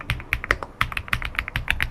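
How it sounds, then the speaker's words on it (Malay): Quick typing on an Elecfox Linky 87 mechanical keyboard, a close, crisp run of clacky keystrokes in an uneven rhythm, heard alone at moderate level. "Yang korang tengok ni mechanical keyboard Linky 87 daripada Elecfox."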